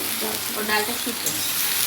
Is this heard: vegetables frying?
yes